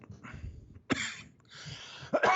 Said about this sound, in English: Don't worry about my persistent coughing.